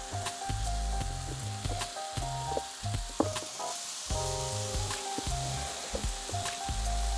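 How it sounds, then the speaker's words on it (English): Garlic Cajun lobster tails sizzle steadily on a hot Blackstone griddle, a loud continuous frying hiss with crackles and sharp pops throughout, no voices. "And then we're gonna put them on the griddle."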